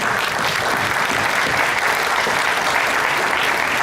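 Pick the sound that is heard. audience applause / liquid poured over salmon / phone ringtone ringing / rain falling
audience applause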